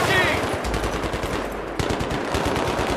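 Rapid gunfire from the Battlefield 3 campaign on hard difficulty, a steady dense run of close, loud shots filling the whole stretch with a brief sharper burst near the end.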